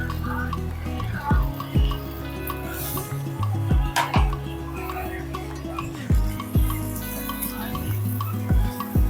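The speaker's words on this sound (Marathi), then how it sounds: "छान मिक्स करून घेऊया फोडणीमध्ये भाज्या." A spoon stirs potatoes, cauliflower, peas and carrots into a hot spice tempering in a pan, with repeated scraping strokes in an uneven rhythm, close and moderately loud against a low background hum.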